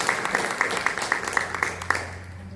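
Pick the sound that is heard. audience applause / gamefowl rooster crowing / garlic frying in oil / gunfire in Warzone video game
audience applause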